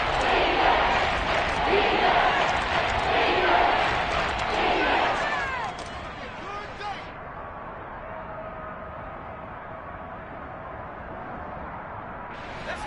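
A football stadium crowd roars loudly with cheering and shouting ahead of a big third down late in the fourth quarter, the noise swelling then dropping to a lower murmur, with an announcer speaking over it.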